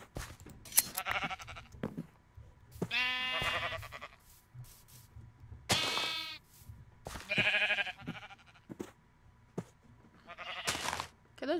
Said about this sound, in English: those baby sheep need to stop eating everything